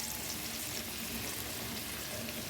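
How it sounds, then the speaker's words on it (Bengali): Potato and green chili sit in a frying pan with oil, making a faint, even sizzle that runs without a break through the short stretch. No talking is heard. "আলু আর লঙ্কাটা দিয়ে দিচ্ছি"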